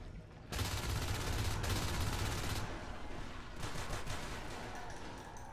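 Shotgun blasts from a Marine in Natural Selection fighting three lurk aliens, loud bursts of gunfire in two clusters with a brief gap, dense and close, with a faint voice underneath.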